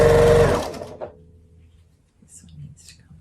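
A sewing machine runs a loud, rapid, even stitching burst on quilt pieces for about half a second, then stops, leaving faint handling rustles and soft fabric noises.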